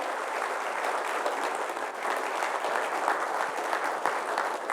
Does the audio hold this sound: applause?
yes